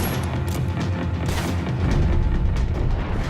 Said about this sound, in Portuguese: Tiro de magno.